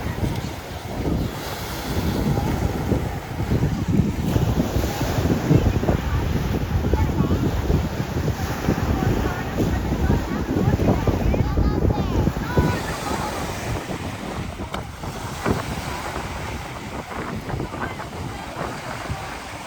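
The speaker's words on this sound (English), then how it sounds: "Sorry for the wind here. It's very windy." Strong wind buffets the microphone in a constant roar, with surf washing beneath it throughout.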